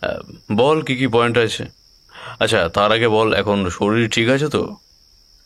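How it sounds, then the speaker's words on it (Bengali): Crickets chirp steadily at night inside a quiet forest, a continuous high thin trill running beneath loud close speech from two people talking. "এই জঙ্গলের ভেতরটা এত চুপচাপ যে ঝিঝির ডাক যেন মাইকে শোনা যাচ্ছে।"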